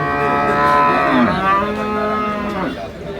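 Cows at a Kerala cattle market lowing close by, one long drawn-out moo followed by another deeper call, loud and clear with faint crowd noise underneath.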